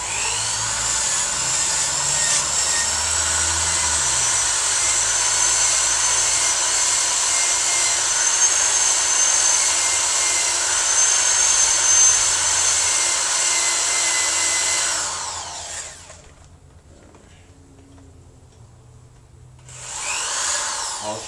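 An old-fashioned electric drill grinds steadily while porting and polishing Jeep WJ cylinder heads, a loud continuous whine for about fifteen seconds before cutting out, then briefly starting again.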